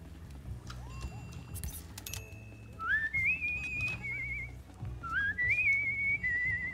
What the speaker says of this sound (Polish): Przestanie gwizdać.